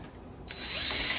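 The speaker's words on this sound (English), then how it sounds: "drill that guy a little deeper in the pilot hole here" A power drill spins up and whines steadily as it bores a pilot hole during a Bel Air rear suspension install, starting quietly and then holding a close, loud, even tone.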